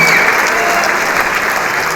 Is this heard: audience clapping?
yes